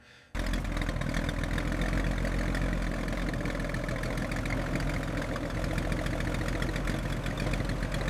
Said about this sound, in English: That vibration, that's just the steady beat of the engine.